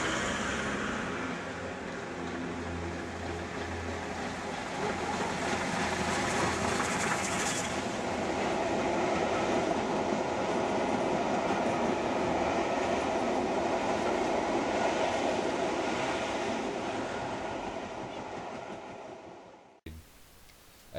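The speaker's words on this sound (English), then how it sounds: "The Black Fives are arguably one of the most powerful and advanced steam locomotives built in Britain." An LMS Black Five steam locomotive rolls past with a loud, sustained rail rumble and rhythmic clatter of wheels over track, swelling in the middle before fading away near the end.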